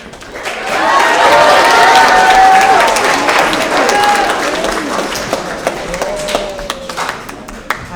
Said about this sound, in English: Let's give another round of applause for our wonderful mock trial team.